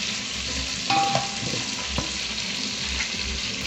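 Beef frying in oil for pilau gives a loud, steady sizzle close by, with a few clinks and scrapes of stirring breaking through the hiss and no one talking.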